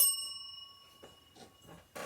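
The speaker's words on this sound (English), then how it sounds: "Oh, ring my bell." A small bell rung to celebrate a finished cross-stitch project, a few bright sustained dings that fade, followed by faint rustling.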